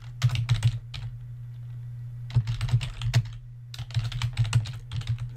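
Computer keyboard typing in two quick bursts of key clicks, including space bar presses, separated by a short pause, close and clear over a steady low hum.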